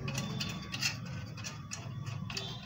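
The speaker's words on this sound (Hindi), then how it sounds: "सांकर जो हो कट कट की आवाज़ आ रही है" Auto rickshaw drive chain clicking and ticking in a steady, fast mechanical rhythm over a low running hum, close and fairly even throughout.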